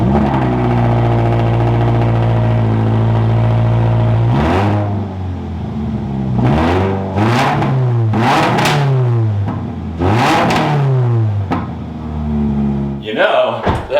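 A manual Toyota GR86 engine with no exhaust attached idles steadily, then is blipped through several sharp revs that rise and fall in quick succession, loud and close, before settling back to idle.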